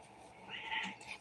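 A Siamese cat gives a loud, drawn-out meow close by, a single rising and falling cry lasting about a second.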